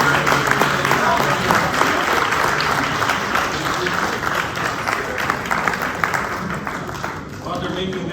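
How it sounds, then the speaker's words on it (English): Banquet audience applauding award winners at an awards evening, a dense, steady wash of clapping that fills the whole stretch, with a voice speaking over it at the start. "Let's have all of our winners please come up and have a big round of applause for all of"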